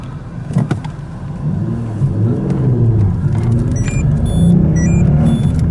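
A 2005 Peugeot 407 Coupe with a 3.0 V6 making 211 PS and a manual gearbox hums with a low, swelling engine rumble that builds gradually, while thin high squeaks chirp intermittently near the end.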